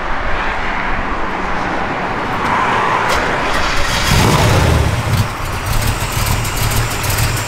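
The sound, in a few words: 1965 Chevrolet Chevy II engine revving with cam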